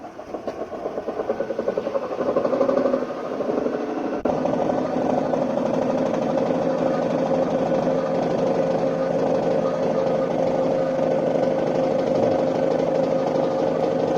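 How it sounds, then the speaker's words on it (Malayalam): A pole-changing induction motor runs at no load on a test bench, giving a steady, even mechanical hum with a faint rhythmic flutter; a short shift near the start settles into a constant drone, no voices. "ഇനി ഓട്ടോ ട്രാൻസ്ഫോമർ അഡ്ജസ്റ്റ് ചെയ്ത് മോട്ടോർ സ്റ്റാർട്ട് ചെയ്തു"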